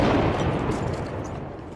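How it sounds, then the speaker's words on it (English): Incoming artillery rounds explode close by on a street in Bakhmut, Ukraine, a single deep rumbling blast that rolls and decays over a couple of seconds. "As we walk back up the street, more rounds explode close by."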